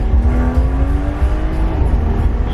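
A BMW with a turbocharged B58 engine accelerates hard, with a loud, close engine roar and a steadily climbing whine under a rough, constant drone from inside the car.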